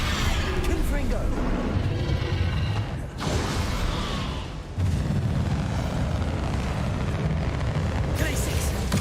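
Confringo fire blast spell cast in the video game Hogwarts Legacy, a loud rushing roar with booming bursts, broken by a short dip, while a voice talks through it.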